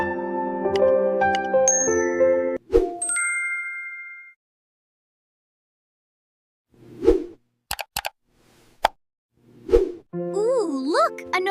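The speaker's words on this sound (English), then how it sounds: "Ooh, look, a notification." A bright digital notification ding rings out among several chimes, plops and short electronic tones, scattered between gaps of silence with a voice talking near it.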